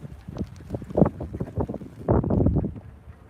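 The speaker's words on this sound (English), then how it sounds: "As you can probably hear, it's windy as hell." Strong outdoor wind buffets the microphone in gusty, uneven rumbles, swelling into a heavy blast near the end with no talking.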